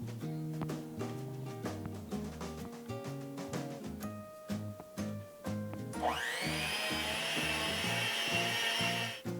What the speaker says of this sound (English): Use the mixer to mix thoroughly.